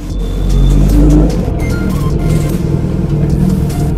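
A car engine revs up loudly, holds for a moment, then drops back to a rough, rumbling idle close by.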